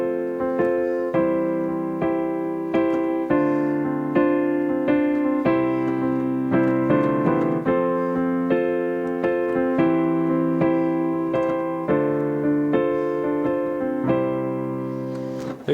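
Solo piano plays the chords of a song, both hands striking them in a steady repeated rhythm. The sustained chords change every couple of seconds, clear and close, with no voice.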